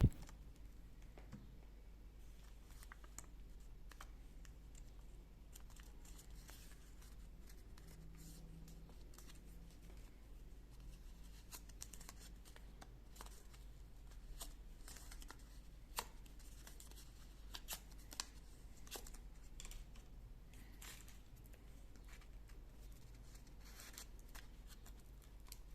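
Scissors cut paper to shape a lollipop flower decoration, giving faint, scattered snips and light paper rustles over a quiet room, with no talking.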